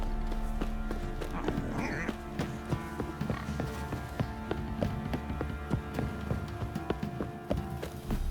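Horse hooves clop along a path in the video game The Witcher 3: Wild Hunt, a fairly steady series of muffled beats set against the game's background ambience and music, with no voice over it.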